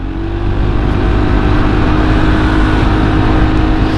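Honda PCX 160 scooter with an overbored SOHC engine, heard while riding: a loud, steady drone with a low hum and wind rush, holding even throughout.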